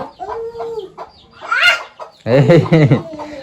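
A mother hen clucks among her chicks in a domestic backyard setting, with close, repeated calls interspersed with people talking nearby.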